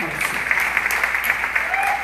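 A concert audience at a live show in the USA claps steadily in a dense, continuous round of applause.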